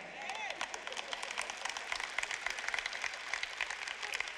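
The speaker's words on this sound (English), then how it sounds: "Only these people over here are clapping." An audience in one part of a church-style auditorium claps, a steady patter of scattered applause running throughout without pause.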